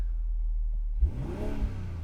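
A 2022 BMW X3 M40i's inline-six engine idles low in sport mode with standard non-active exhaust, then revs sharply about halfway through, the deep rumble rising and falling with exhaust burble, loud and close.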